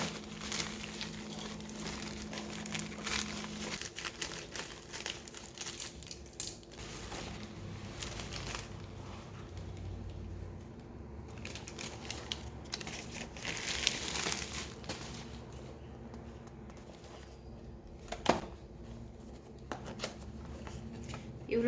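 A newly delivered Amazon package holding a selfie stick and stand is unwrapped up close, with quiet crinkling plastic, rustling and small clicks and rattles of parts.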